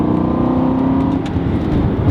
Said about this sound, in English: that's just a half stab at the throttle